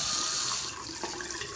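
Forceful water pours from an IllumiSink faucet into a sink, a loud steady rushing splatter that thins slightly partway through as the flow eases.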